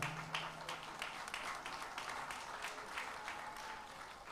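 Audience applause at a graduation ceremony, a steady wash of many hands clapping at moderate volume throughout, with faint background murmur.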